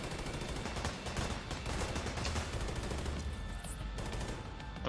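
Sustained rapid gunfire from The Division 2, dense overlapping shots and bursts running the whole time at steady loudness, with no talking.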